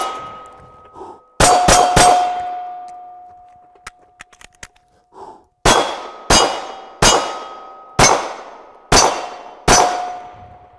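Handgun rounds striking steel challenge targets on a concealed-carry range ring out in sharp metallic clangs: an opening rapid trio, a pause with faint clicks, then six evenly spaced loud hits with ringing tails.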